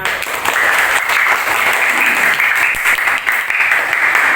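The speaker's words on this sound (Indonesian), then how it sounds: "Tepuk tangan untuk kalian semua." A primary school class in Indonesia gives a round of applause, a dense and loud continuous clapping from many children that holds steady throughout.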